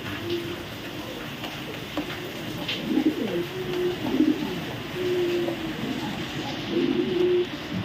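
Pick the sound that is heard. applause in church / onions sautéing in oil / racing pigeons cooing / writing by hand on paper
racing pigeons cooing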